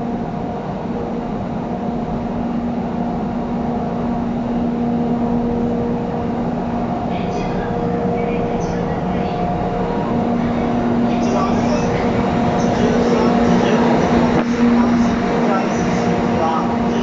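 An EF64 electric locomotive pulls away from a platform at Shinjuku station with a steady, droning motor hum. Busy station ambience fills the background throughout.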